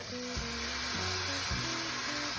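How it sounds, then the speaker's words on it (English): Garlic sautéing in a pan for a warm spring salad, a steady close sizzle with low thumps of stirring that recur every half second or so. "Saute for about 2 more minutes until it gives off a nice golden color and is fragrant"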